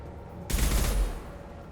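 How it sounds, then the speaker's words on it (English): A single high-impact gunshot in Mass Effect 2 fires with a sudden loud blast, then a booming tail that fades out over about a second. "Firing a high impact shot."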